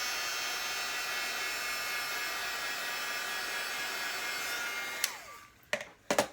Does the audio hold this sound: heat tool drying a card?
yes